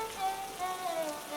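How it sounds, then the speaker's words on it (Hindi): Steady rain falls on a surface during a Hindi story scene set at a poor family's home, a soft continuous patter at low level with no voices over it. "आज भी बारिश नहीं रुकी।"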